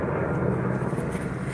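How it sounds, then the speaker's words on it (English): Steady broadband roar of a helicopter passing overhead, loud and constant throughout, with no talk. "the one I just showed y'all is an actual helicopter"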